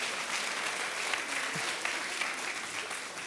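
A church audience applauds to open the Christmas season, a sustained, even roar of many clapping hands at moderate loudness with no speech over it.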